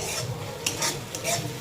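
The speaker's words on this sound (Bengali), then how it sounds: "মশলা থেকে তেল ছেড়ে দিয়েছে" Spice paste with Kashmiri chili powder frying in released oil hisses steadily up close while a few quick scraping stirs cut through, with no talk.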